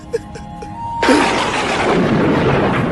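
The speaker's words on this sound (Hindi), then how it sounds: "अबे भाई अचानक इतनी बिजली क्यों कड़क रही है?" A sudden loud thunder crack from lightning bursts in and rolls on as a sustained, heavy rumble, following a quieter stretch with a few faint knocks.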